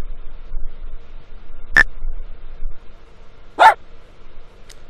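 Cartoon dogs in a preschool counting game: a crisp click, then a lone short bark a couple of seconds later, each brief and standing alone over a near-silent background.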